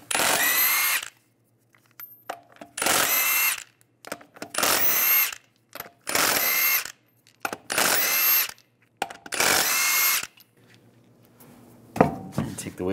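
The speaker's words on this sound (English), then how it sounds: "take the lug nuts off." A power tool spins off the lug nuts on a 2007-2013 Chevrolet Silverado 1500 front wheel using a 22 mm socket, loud close bursts of about a second each, seven or eight in a row with short quiet gaps and small clanks between them.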